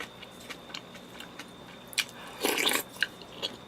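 Kimchi being bitten and chewed during a Korean home meal with doenjang stew, close to the mic: soft scattered crunches, then a louder burst of wet crunching mid-clip and a few lighter bites afterward, with no talking.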